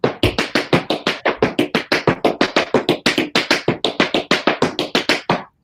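Tap dancing steps in a steady run of crisp, close taps, the even beat broken by quick double strikes that shift the accent, with no voice over them.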